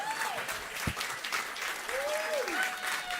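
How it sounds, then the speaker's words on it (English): Audience applause at a public event, soft and somewhat distant clapping running under other sounds, with faint sliding tones and a brief thump mixed in. "Hey, keep that applause going."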